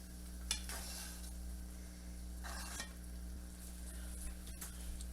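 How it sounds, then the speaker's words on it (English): Chicken veggie soup bubbles and simmers in a pot, a low steady bubbling hiss with a few soft stirring scrapes and clinks nearby, no talk. "Soup is boiling."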